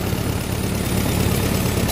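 A tractor engine idles smoothly and steadily with a low, even rumble that holds constant throughout, close by and alone without any talk.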